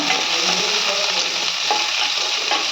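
Small shallots and curry leaves sauté in a pan for mutton kola urundai kuzhambu, a dense continuous sizzle close up with occasional light stirring clinks throughout.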